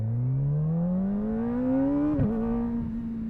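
Motorcycle engine pulling away slowly from a full stop, its hum rising smoothly in pitch before a brief dip and leveling off, close and steady with no voices.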